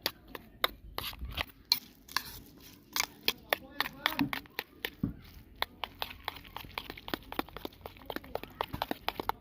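Egg and soybean batter with onion, green chilli and chilli powder mixed by hand, giving a run of irregular wet squelches and sharp slaps, fairly close and moderately loud, alone without talk.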